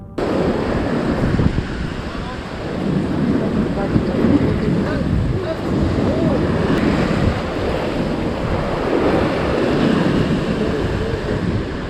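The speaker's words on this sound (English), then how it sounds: "Without warning, a wave suddenly surged forward." Ocean waves surging against rocks at a fishing spot, a continuous loud rushing roar of surf and wind buffeting the microphone, with no clear break between surges.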